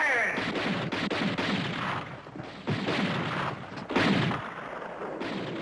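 Artillery guns fire in a battle scene from the 1970 Disney film Menace on the Mountain. Several heavy, booming shots arrive a second or two apart, each with a rumbling tail, amid dense battle noise.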